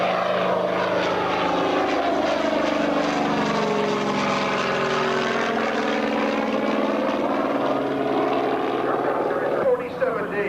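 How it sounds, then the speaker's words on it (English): A Grumman Hellcat propeller fighter airplane drones loudly and steadily, its engine roar sweeping in pitch as it passes close by for the full length. "USS Hellcat. Built by Grumman. This airplane was one of our all-time fighters."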